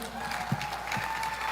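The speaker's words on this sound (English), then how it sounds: "I need a better applause than that" Applause from a live audience at a music event, a brief stretch of soft, diffuse clapping with crowd murmur and a couple of sharper claps standing out.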